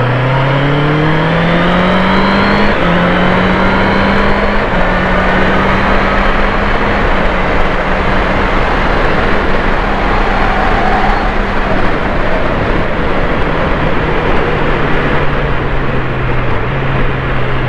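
A 2024 Honda CB 650R E-Clutch motorcycle is ridden on the road, its engine drone rising in pitch and then dropping at each gear shift. Loud, continuous wind rush runs through the whole ride.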